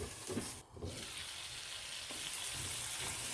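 Tamil curry masala with a small tomato, chilli powder and coriander powder being sautéed in a pan, a soft steady sizzle with light stirring and no voices.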